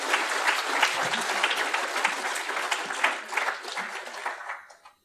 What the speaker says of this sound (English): Big round of applause for David, please.